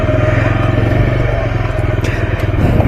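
A motorcycle engine chugs loudly nearby, a steady throbbing rumble with a faint rattle over it.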